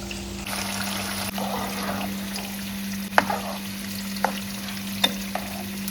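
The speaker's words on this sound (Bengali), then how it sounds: "এদিকে পটল ভাজা হচ্ছে" Pointed gourd sizzles steadily in a frying pan with a low hum underneath, broken by a few sharp clinks and scrapes of stirring, close and without talk.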